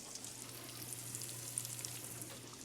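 Steady, quiet sizzling of lentils in a pan with faint crackles and pops, close by and continuous, no voices.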